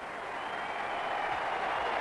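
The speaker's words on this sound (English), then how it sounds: "a warm ovation for him from this MCG crowd" A steady wash of applause and cheering rises from a large crowd at the Melbourne Cricket Ground for Srikkanth's fifty in the 1985 India versus Pakistan final, sustained and fairly even throughout.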